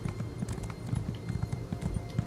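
Hooves of a horse clip-clopping in Elder Scrolls Online at a steady trot-like rhythm, close and fairly loud, with no talk over them.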